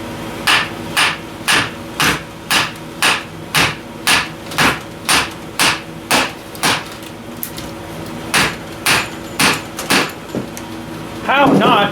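Repeated hammer blows on a Ford 2N tractor starter, about twenty evenly spaced metallic strikes ringing close and loud, a short pause near the end, then a final clatter.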